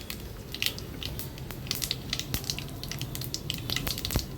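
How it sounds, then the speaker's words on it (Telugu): Spices for tempering fry in hot oil in a non-stick pan, a continuous close sizzle with rapid irregular crackles and pops running throughout. "తాలింపు వేస్తుంది"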